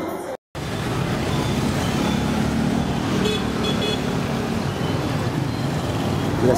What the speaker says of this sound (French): La circulation dans Saigon.